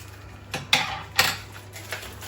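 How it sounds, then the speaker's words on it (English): A kitchen knife cuts through smoked bacon medallions on a board while making carbonara, giving a few sharp, close chopping taps spaced about half a second apart over a faint background hum. "I want to quickly cut up these smoked bacon medallions."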